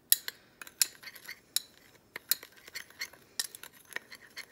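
A spoon stirs paprika, garlic powder, chili powder, cumin, salt and onion powder in a bowl: rapid, irregular bright clinks and scrapes against the dish, close up and fairly quiet, with no talking.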